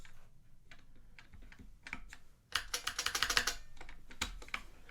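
Bursts of typing on a brand-new Model F Labs F62 Kishsaver buckling-spring keyboard, starting with sparse separate keystrokes and then a fast, loud flurry of crisp clacks, close up with no voices.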